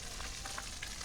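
Raw green mango dropped into hot oil with garlic, dried chili and five-spice, a brief, bright sizzle with a few small bursts, fairly quiet and without talk.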